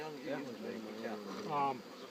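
Honeybees buzzing at an opened hive, a close, wavering drone of many wings rising and falling in pitch, with a few louder passes by individual bees.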